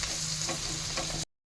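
Onion sizzles in hot oil in a pan while being stirred, a steady close frying hiss with light spoon scrapes that cuts off abruptly.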